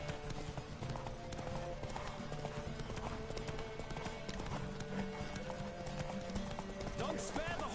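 Steady clip-clop of horse hooves galloping at an even rhythm in a video game, with voices talking over the top throughout.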